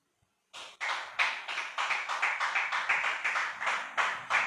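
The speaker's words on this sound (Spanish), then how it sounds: "Dele palmas al Señor." A church congregation claps in a brisk, even rhythm, the hand claps close and fairly loud after a brief silence, continuing steadily without any talking.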